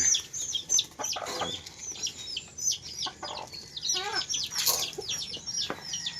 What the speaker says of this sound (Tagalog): Meron tayong alagang manok dito eh